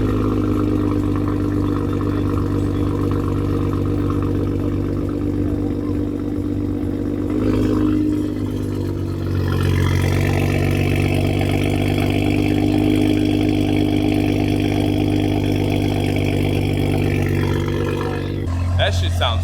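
Modified car engine at a San Diego car show idles with a deep, steady rumble, then revs up around the middle and holds higher before dropping back to idle, loud and close, with people talking nearby.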